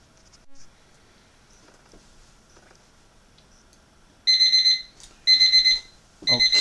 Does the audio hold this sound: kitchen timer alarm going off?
yes